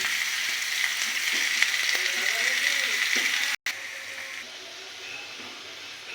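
Crushed garlic and about three dried red chillies frying in oil in a pan, a bright continuous sizzle with crackling, a few clinks and a short break before it carries on more quietly.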